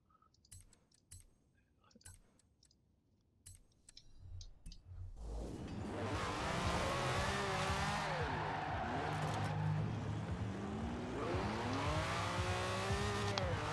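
A Lamborghini Countach in the Forza racing game, rear-wheel drive, spins its wheels: a few quiet clicks, then a loud, steady engine roar with rising and falling revs and tyre squeal, close and sustained.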